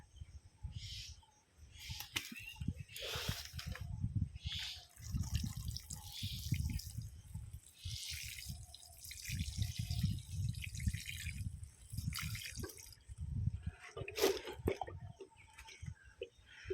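Water splashes and trickles onto the soil around a newly planted sapling in uneven pours, with occasional drips and faint birdsong in the background.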